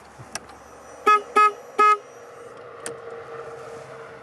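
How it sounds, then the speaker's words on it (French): A car horn honks three short times in quick succession, close by, followed by a quieter engine hum. "Je klaxonne."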